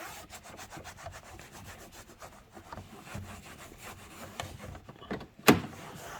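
A towel rubbed over black plastic car trim to buff in dressing, a steady scrubbing swish repeated close up for several seconds, ending with a sharp knock.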